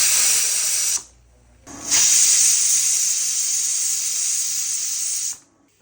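Pressure cooker cooking jaulo, a Nepali rice porridge with tomato, letting off loud steam whistles: a hissing blast of about a second, a brief pause, then a longer steady high whistle of several seconds that cuts off abruptly.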